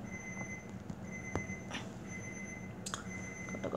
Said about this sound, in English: gotta go take care of that alarm